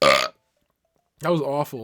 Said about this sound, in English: That was a hiccup and a burp at the same time.